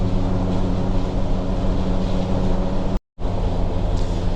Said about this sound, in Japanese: 結構ね、やっぱり車内騒音がすごい。